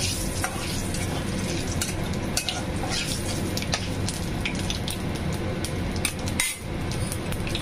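Bay leaf, whole garam masala and cumin seeds sizzle in hot oil previously used to fry koi fish, a constant crackling hiss broken by sharp metallic clinks and scrapes of a spoon stirring in the pan, close and loud with no talking.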